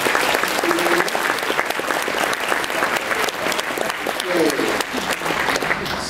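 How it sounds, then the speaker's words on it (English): A conference audience applauds the presenters, a steady wash of many hands clapping at close range for several seconds, with a few brief voices murmuring beneath the clapping. "round of applause for all of our presenters"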